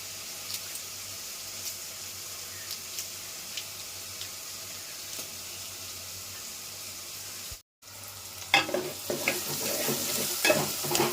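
Onions and dried shrimp fry in a pan with a soft, continuous sizzle and faint ticks. After a brief cut, the frying comes back louder, with crackles and stirring scrapes close by.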